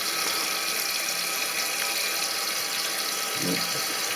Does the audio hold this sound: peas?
no